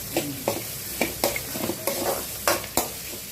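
Salted onions fry in a pan for poha upma. A spoon scrapes through them in regular, repeated strokes over a constant soft sizzle.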